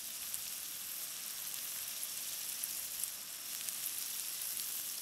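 Seasoned chicken for a village-style chicken chakori breakfast fries in a pan, a soft, even sizzle with faint crackling pops, continuous and fairly quiet.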